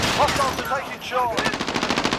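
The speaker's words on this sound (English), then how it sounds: "I'm taking fire." Rapid automatic gunfire in a Call of Duty Domination multiplayer match crackles in close, fast bursts, turning into a steady rattling stream of shots near the end, with faint voices briefly audible underneath.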